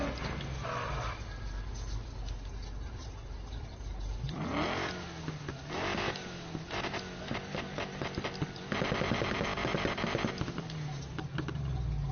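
A custom F1 car's engine revs repeatedly in a Need for Speed racing game, with rising pitch sweeps and bursts of throttle over a steady mechanical drone, loud and close throughout.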